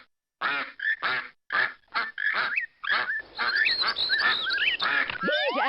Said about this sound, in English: Click on the duck, toucan, whippoorwill, and blackburnian warbler for a real song fest.